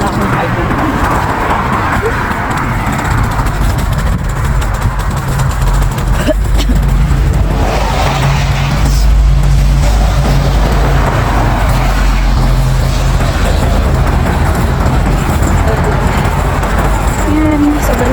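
Highway traffic roars past in a cold Canadian winter as someone walks toward a grocery store, a loud, continuous wash of road noise with passing vehicles and a voice talking over it.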